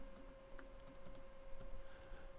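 Quiet typing on a computer keyboard while setting up a Raspberry Pi 4 Cardano node, light irregular key clicks over a steady hum.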